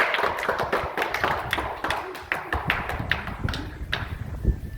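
A crowd claps for a man named Vanrajbhai finishing a brick-dragging walking challenge, scattered irregular hand claps and taps up close for a few seconds, with a faint voice underneath.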